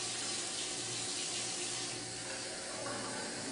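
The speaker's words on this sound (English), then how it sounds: "So what we're going to do is we're going to use our tap water," Tap water runs steadily into a glass, a constant splashing hiss with a faint low gurgle, close and even throughout with no talking.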